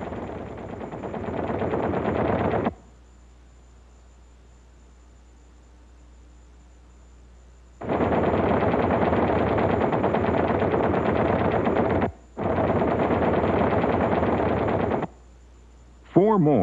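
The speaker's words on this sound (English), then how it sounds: "you can see the effect of the firing on the thin aluminum surface inches from the pilot's seat" Fifty-caliber machine guns on a B-25 Mitchell bomber fire in long, loud, sustained bursts, roughly three seconds, then seven, a brief break, three more, and a final short burst, with quiet gaps between.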